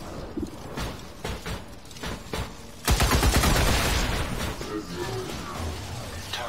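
Gunfire in the game XCOM 2, with several separate sharp shots at first, then a loud sustained burst of automatic fire that fades into rumbling debris, while a voice talks.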